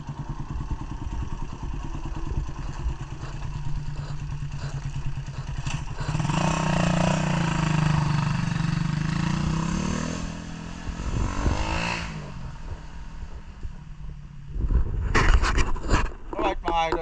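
A Suzuki Raider 150 motorcycle engine idles roughly with an uneven, misfiring rhythm, steady and close, swelling briefly midway and sputtering again near the end, with people talking over it.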